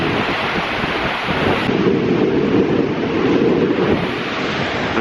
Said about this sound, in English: but it's really windy.